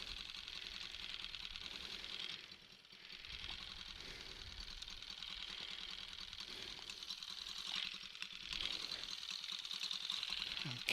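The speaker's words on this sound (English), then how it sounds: "it's a great relief to have a service motor" A boat's service motor runs steadily on a canal in Amsterdam, a close, even mechanical chatter with a rapid ticking rhythm that dips briefly and then holds on without pause.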